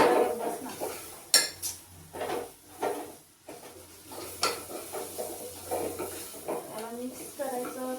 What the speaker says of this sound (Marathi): तर याला मिक्स करू थोड्या वेळासाठी